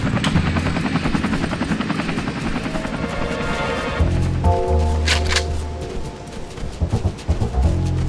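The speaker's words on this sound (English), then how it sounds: "We'll land the chopper nearby." Helicopter rotor thumping and engine whine in the video game XIII as the chopper comes in to land, loud and steady throughout with a mechanical clunk and shifting tone near the middle.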